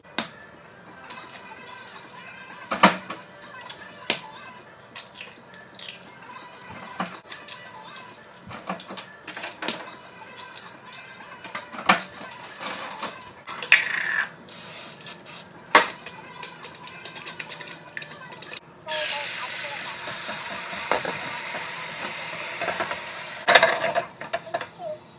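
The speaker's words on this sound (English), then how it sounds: "4 large eggs. That's what I'm making right now." Four large eggs cook in a pan, with scattered clinks of utensils, scraping and stirring, and a brief stretch of sizzling near the end; no one speaks.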